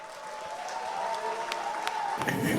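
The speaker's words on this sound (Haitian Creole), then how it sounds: "Vos applaudissements." Audience at a formal gathering applauding the arrival of Haiti's First Lady, Madame Martine Moïse: a steady wash of clapping that swells slightly toward the end, with no voices over it.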